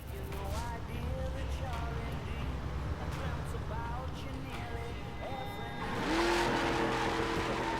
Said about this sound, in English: It's a performance spec of a 69 Camaro here. Has been one of my favorite cars to drive.